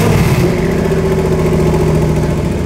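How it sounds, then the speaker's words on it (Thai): A Bigfoot monster truck with the largest tires in Asia idling: a loud, steady, close engine rumble with a deep, even hum throughout. "เป็นไงเสียงเครื่อง"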